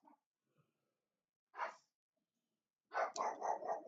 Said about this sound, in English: It's my dog, and we have a visitor coming in here